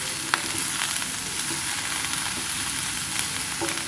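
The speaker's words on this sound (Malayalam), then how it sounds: "നമ്മൾ ഇതൊന്ന് നല്ലപോലെ ഒന്ന് ഇളക്കി കൊടുക്കട്ടെ കേട്ടോ." Brinjal stir-fry (nithyavazhuthana) sizzles in a hot pan as it is stirred: a steady, close crackle and hiss of oil with faint scraping, and no voices.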